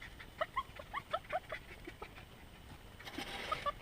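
A dog whining insistently for a stick to be thrown, a run of short high whimpers in a quick uneven rhythm, fairly faint and close, followed by some rustling.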